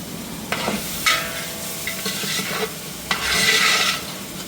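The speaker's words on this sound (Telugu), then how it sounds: "ఆయిల్ వేడిన తర్వాత ఆనియన్స్, కొంచెం కరివేపాకు, లవంగాయ, చెక్క, యాలక్కాయలు ఇవన్నీ వేసి కొంచెం ఫ్రై చేసుకుంటున్నాను" Onions, curry leaves, cloves, cinnamon and cardamom stirred in hot oil in a home kitchen, giving a steady close sizzle with several scraping stirs and clicks of a spoon against the pan.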